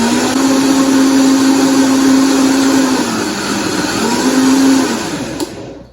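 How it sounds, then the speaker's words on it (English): A blender on its lowest setting whirs steadily as it blends gluten-free clafoutis batter, a loud continuous motor hum that dips briefly midway, rises again and then cuts off near the end. "All right, so now we're going to blend it up."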